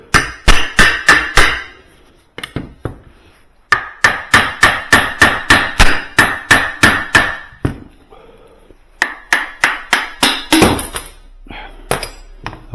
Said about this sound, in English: I'm using a nylon, the nylon end of this hammer.